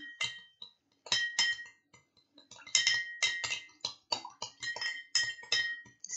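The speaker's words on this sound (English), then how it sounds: "I'm going to stir" A utensil stirs colored liquid in a glass during a classroom science demonstration, giving a quick irregular series of bright clinks and taps against the glass, close and clear with short pauses between.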